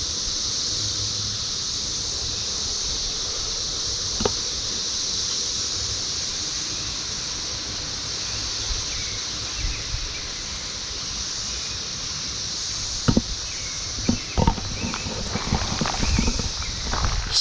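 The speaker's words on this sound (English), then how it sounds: "one or more of the 3 species of cicada that I described to you" Cicadas of up to three species drone at Morris Reserve, a dense, continuous high-pitched buzz steady throughout, with a few faint crunching footsteps or handling knocks near the end.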